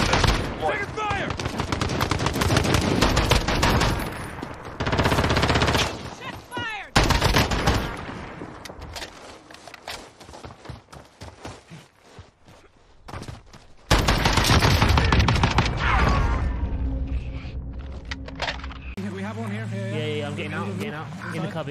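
Gunfire in the video game Call of Duty Warzone, with dense bursts of automatic weapon fire and single shots coming in heavy clusters, broken by brief lulls and ending in quieter game sounds, with players talking throughout.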